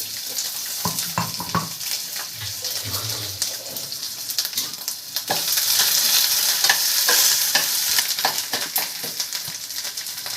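Chana dal, peanuts, mustard seeds, ginger and green chilli fry in hot oil for lemon rice. A loud, close sizzle carries crackles and stirring scrapes, and a water-like rush swells partway through.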